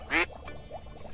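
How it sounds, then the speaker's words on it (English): A single loud duck quack at a pond rings out near the start, followed by a faint flutter of quieter calls and background noise. "Ducks like ponds too."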